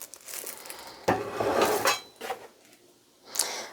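Mixing bowls clatter and knock as they are shifted around inside an apartment kitchen cabinet, with several close, loud bursts of handling and quieter gaps between them.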